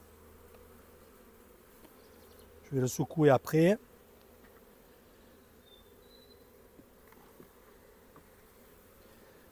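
Honey bees buzz around a beehive frame in a low, steady hum that runs throughout, while someone speaks briefly in the middle.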